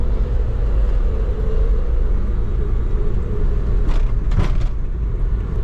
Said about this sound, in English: I'm going for a drive in my Suzuki Carry to warm up the transmission and differentials